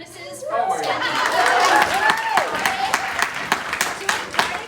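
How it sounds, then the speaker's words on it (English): Audience applause at a bardic gathering, dense clapping mixed with chuckles and crowd chatter, swelling then continuing steadily as voices talk over it. "can we get a round of applause for both of their Highnesses for standing up?"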